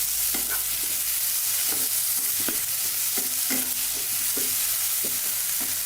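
Chopped onions and tomato sautéing in a pan for cauliflower kurma, a constant hiss of frying under repeated sharp scrapes and taps of a spatula, near and continuous.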